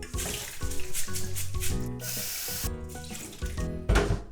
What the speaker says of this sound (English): Then rinse it one more time.